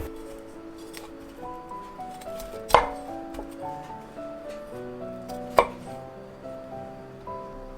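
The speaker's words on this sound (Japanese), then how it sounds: "まずブロッコリーは小房に切り分けます。" A kitchen knife chops broccoli into small florets on a cutting board, giving a run of soft, close cuts and knocks with two sharper thuds partway through, over a quiet indoor background.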